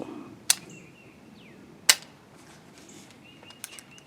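A 9mm AR-style pistol-caliber carbine with a dead firing pin misfires: two sharp, dry metallic clicks about a second and a half apart, close and isolated, then a faint tick or two in a quiet room.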